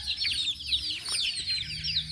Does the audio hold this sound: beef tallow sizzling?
no